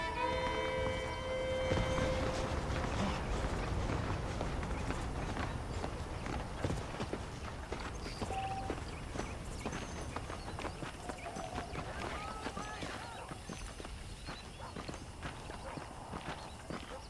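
Steady clip-clop of horse hooves trotting across the whole stretch in Red Dead Redemption, with a brief whinny early on and game music and ambience underneath.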